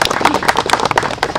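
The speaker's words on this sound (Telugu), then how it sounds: "మీ అందరి చప్పట్లతో" Audience clapping at a city forest inauguration ceremony attended by the chief minister and other ministers, with dense, steady claps from a crowd that carry on loudly for the whole moment.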